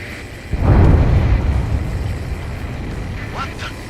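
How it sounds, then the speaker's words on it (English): A huge underwater explosion in the video game Ace Combat 7, a deep muffled boom that swells suddenly and rumbles on, fading slowly under a steady background drone. "A huge explosion just went off underwater."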